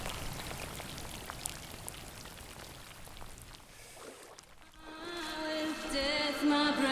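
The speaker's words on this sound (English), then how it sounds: "There's the rain anyway." Rain falling in Ireland, a steady broadband patter of drops hissing on surfaces for several seconds before music swells in near the end and takes over.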